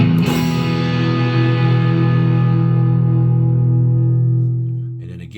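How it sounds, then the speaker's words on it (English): Electric guitar through a boosted Marshall 800 amp model with a Fulltone OCD overdrive, one loud distorted chord struck and left ringing with a long sustain before it fades out. "here's a boosted 800 with a full tone OCD"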